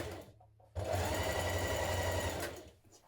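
A sewing machine stitches the shoulder seams of a blouse facing, running close and steady for about two seconds between short quiet gaps.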